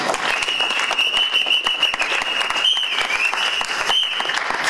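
A church congregation applauds steadily throughout, dense clapping with no pause, while a high sustained tone sounds over the crowd.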